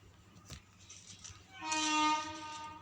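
A train horn in a video game sounds one sustained, harmonically rich blast that swells in about halfway through and holds steady, over faint game background noise.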